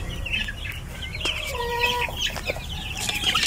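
Hundreds of month-old chicks on a farm cluck and cheep in a steady chorus, close and moderately loud, with no talking.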